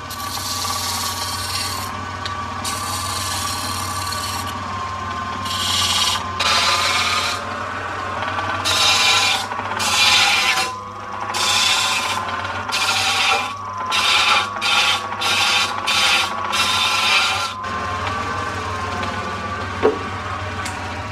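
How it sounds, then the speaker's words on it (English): A wooden center pillar for a tripod table turns on a lathe in a cabinet-making workshop. A steady motor drone runs underneath while bursts of rasping cuts come and go, loud and close. "Now it's back to the lathe."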